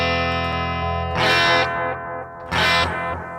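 A guitar amp runs its effects loop with the return used as makeup gain, giving a sustained distorted electric guitar tone with two louder, brighter strummed bursts, played alone.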